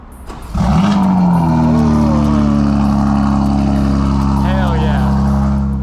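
BMW M4 CSL engine starting: a sharp crank and catch flaring into a loud rev, then settling to a deep, steady idle rumble, close by.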